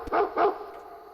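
A dog barks inside a horror video game, giving two close, loud barks in quick succession and then falling quiet, with no talking.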